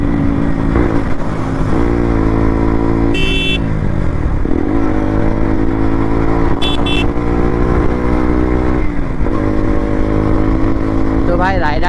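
Motorcycles on a Sunday group ride head toward a city centre. Their engines give a loud, continuous close drone with shifting pitch as riders throttle and change gear, and someone talks over the engine noise.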